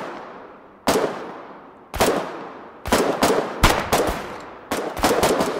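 Gunfire in the war video game Foxhole: loud, sharp shots and short bursts with ringing decay, first spaced about a second apart and then quickening into clustered volleys, with no talk.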